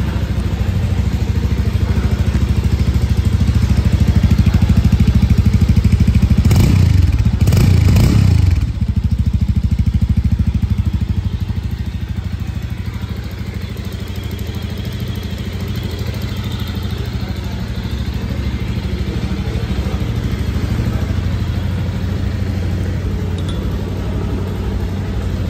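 A Bajaj Avenger 220 Cruise motorcycle engine runs steadily at idle, with a short louder burst of revving near the start before settling back into an even, close rumble.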